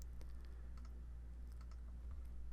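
Computer mouse clicks while working in Photoshop Elements, several light, quick clicks scattered over a low steady hum, faint and close, with no talking.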